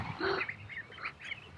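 Ducks in a garden are sprayed with a water shower, giving soft, scattered quacks and calls over a faint hiss of spraying water.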